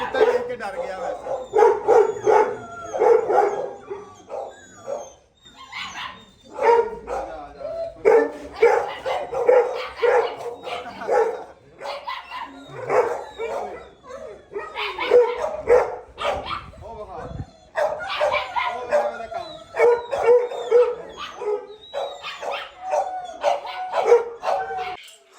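A dog barks and yips repeatedly at close range, its bursts mixed in with steady conversation from people nearby throughout.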